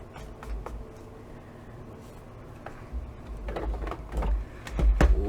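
Paper being cut along a 4.5 inch score line for a card project, soft sliding and scraping strokes that grow louder and rougher toward the end, no voices.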